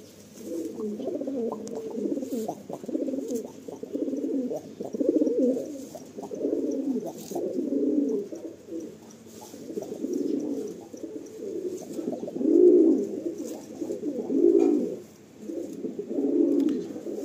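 A pair of pigeons coos close by in repeated soft, throaty phrases, one call following another in an uneven rhythm with short pauses between.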